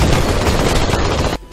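Rapid burst of sniper gunfire in a video game, loud and dense for over a second before cutting off abruptly.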